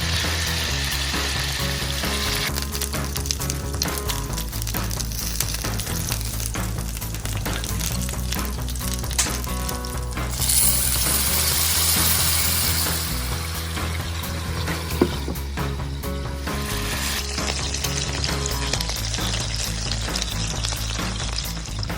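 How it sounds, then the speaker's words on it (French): Gyoza dumplings fry in a pan with a drizzle of sesame oil, giving a continuous close sizzle that runs unbroken over a low, droning background. "nous allons mettre un petit peu d'huile de sésame sur nos raviolis et nous allons laisser cuire encore pendant 3-4 minutes"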